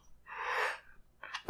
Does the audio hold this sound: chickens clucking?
no